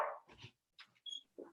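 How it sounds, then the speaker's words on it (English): A dog barking at home during an online committee meeting: a few short, sharp barks and yips in quick succession, close to the microphone, with brief silent gaps between them. "I can hear a dog barking."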